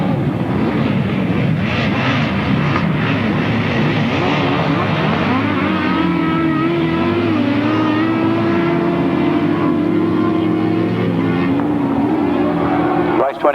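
Grasstrack racing motorcycles at a 1994 meeting at Gatwick roar into the first turn: a loud, continuous engine howl whose pitch rises and sweeps as the pack passes close by.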